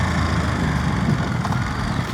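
A 2025 Ducati Monster motorcycle engine rumbles loudly and steadily close by, a deep, throbbing idle with uneven low pulses and no talking.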